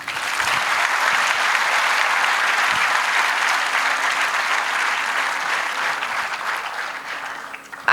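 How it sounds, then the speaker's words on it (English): An audience gives a loud, sustained round of applause to welcome a guest onto the stage at a formal university ceremony, steady and dense for nearly eight seconds before tapering at the end. "Please welcome Mr. Pushkar Aurangabadkar sir with a huge round of applause."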